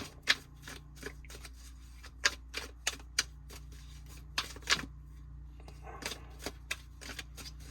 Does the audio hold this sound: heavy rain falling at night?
no